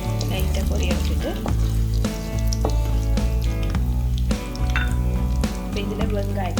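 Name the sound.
mustard and fennel seeds spluttering in hot oil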